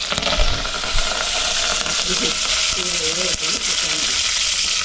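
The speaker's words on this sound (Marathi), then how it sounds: "आता कढीपत्ता टाकते फोडणीला. तेल तापलंय." Curry leaves hit hot oil for a tadka in a home kitchen: a loud, steady, dense sizzle and crackle running unbroken for several seconds, with a few faint clinks and no talking.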